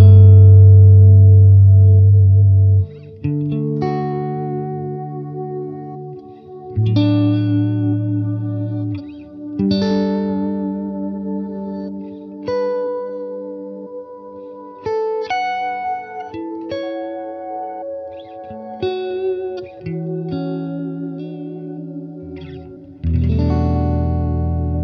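Electric guitar run through a reverse delay effect on a Line 6 Helix modeler, playing sustained chords and single notes that swell in and trail off for about 25 seconds, loud and alone without speech.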